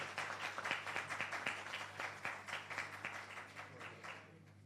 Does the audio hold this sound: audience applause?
yes